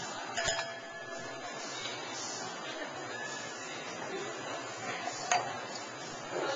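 Drinking glasses clink together in a toast at a cheesemonger's, two light, brief chinks several seconds apart over a quiet room hum, with no talk.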